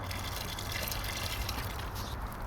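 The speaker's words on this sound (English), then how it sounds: "Now I'm going to add some water." Water poured into a bucket of cement and dirt for a sidewalk repair, a steady splashing gush that runs continuously for a couple of seconds, fairly close and without talk.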